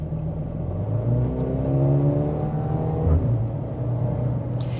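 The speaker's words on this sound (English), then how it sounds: "You even hear rev matching as the engine downshifts" A Mercedes-AMG GLB 35 engine in sport mode accelerates with rising harmonic tones, then briefly blips its revs to rev-match a downshift before settling, heard from inside the cabin.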